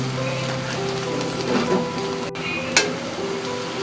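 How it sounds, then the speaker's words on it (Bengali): Onions and dried chilies sizzle in a pan as they fry toward golden brown for a beef kala bhuna, a steady close crackle with one brief sharp clink near the end. "এরপর আমি পেঁয়াজটা গোল্ডেন ব্রাউন হওয়া পর্যন্ত, পুরোপুরি গোল্ডেন ব্রাউন হয়ে যাওয়া পর্যন্ত এগুলো সব ভেজে নেব।"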